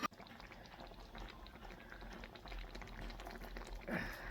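River crab roast bubbling in a covered pot, a steady low simmer and hiss running throughout, close and moderately loud, with a brief swell of louder bubbling near the end.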